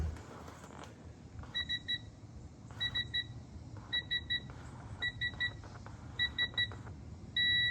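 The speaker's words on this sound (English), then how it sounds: "that long beep is when you reach 30" Torque tool beeping during installation of a 034 transmission mount on an Audi RS5 B9.5: short paired beeps repeat in clusters, then one long sustained beep at the end as the set torque is reached, close and clear over low shop rumble.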